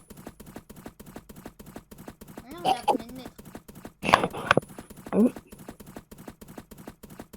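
Hooves of a horse gallop in a video game, a rapid, even clip-clop rhythm running steadily throughout at moderate volume while people talk over it in bursts.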